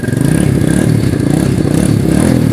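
A Yamaha motorcycle engine idles steadily after a kick start, a close, loud, continuous low rumble with a rapid clattering beat and no pauses throughout.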